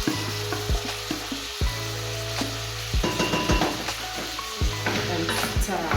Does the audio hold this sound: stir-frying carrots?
yes